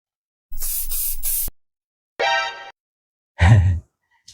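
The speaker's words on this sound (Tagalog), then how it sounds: "I-spray mo sa bibig mo 3." Three short hissing bursts from a spray bottle, pumped into someone's mouth as a folk-healer remedy, close and fairly loud, with a pause between each; the first burst is longer, and brief voices follow.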